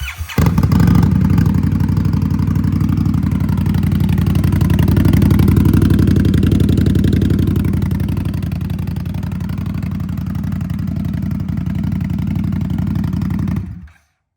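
An Indian Scout Bobber motorcycle fitted with quiet baffles fires up and settles into a steady, loud idle close by, a deep rumble held continuously until it cuts off abruptly near the end.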